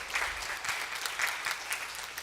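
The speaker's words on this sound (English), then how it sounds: "Let's give it one more round of applause for Mr." Faint, distant applause from a crowd at a championship showcase, a soft continuous patter of many hands clapping with no voices standing out.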